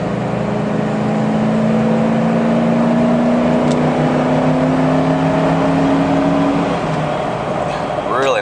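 A car climbing a steep hill under hard throttle, its engine note rising steadily in pitch before an upshift, loud and close from inside the cabin.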